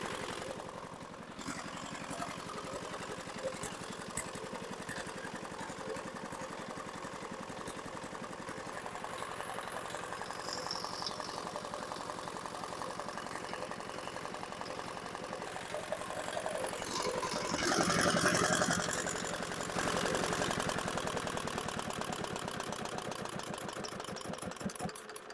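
A D10R190 diesel engine with broken piston rings runs steadily, a continuous mid-pitched rumble with rapid knocking pulses that grows briefly louder and rougher near the end.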